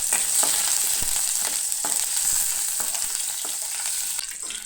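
Ginger sautéing in a hot pan for sabudana khichdi, a bright continuous sizzle with occasional spoon scrapes and pops, close and fairly loud throughout, no voices.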